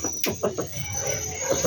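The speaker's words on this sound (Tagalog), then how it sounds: "Ay mga ibon natin guys," Birds call from trees on a cool day in a wooded spot, a few short chirps and clucking notes sounding at moderate distance over steady background hiss.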